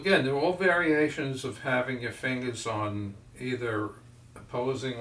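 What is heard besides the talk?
No everyday noises stand out.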